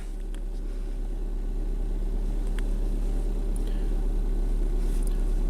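A car engine idles steadily just after being started, a constant low hum running unbroken and fairly close, with no talk over it.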